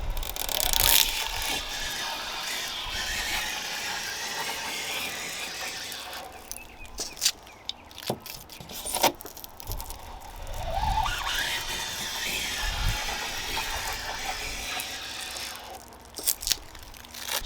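Old window film being scraped off glass with a bladed scraper tool, long rough scraping strokes with crinkling and tearing, close and fairly loud, with short pauses between passes and no talking.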